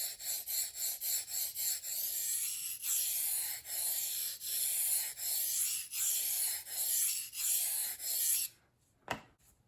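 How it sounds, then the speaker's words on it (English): A knife is stroked across a soft waterstone loaded with sticky slurry, making a loud, wet, gritty rasp in even back-and-forth strokes that ends abruptly, followed by a single knock. "I'm sharpening this way and the slurry's pushing over to the other side"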